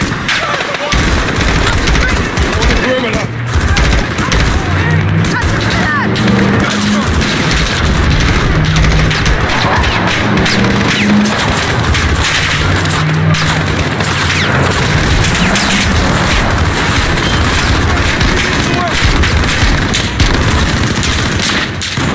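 A Call of Duty: Modern Warfare firefight in a field, with dense, continuous gunfire and heavy booms from a grenade explosion filling the whole stretch, loud and close, with voices shouting underneath.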